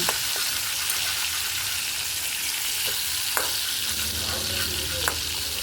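Small mourala fish frying in oil in a pan give a steady, close sizzle throughout, with a few sharper crackles and spatters and no one speaking.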